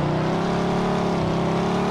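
A car engine idles in a video game with a steady, loud, continuous mechanical hum and no speech over it.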